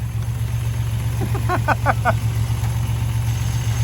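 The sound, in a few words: car engine idling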